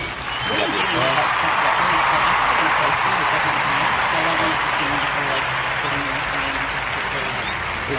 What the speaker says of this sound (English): We got the applause.